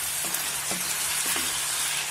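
Pork cheeks and onions sizzle steadily in a hot pan, with a few soft scraping stirs as the pieces are turned, close and continuous without speech.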